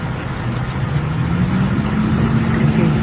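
A truck engine rumbles steadily after offloading a bin, a low continuous idle with a slight rise in pitch, fairly close and without voices.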